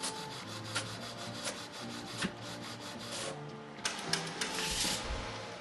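A printer feeds and prints a Siser Easy Subli sublimation sheet, giving a steady rubbing, whirring mechanical texture with faint rhythmic ticks and no speech.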